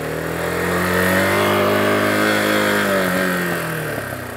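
Motorcycle engine revving on a highway between Ensenada and Tijuana, a steady loud mid-pitched drone that rises and falls slightly in pitch, close and continuous with no talk.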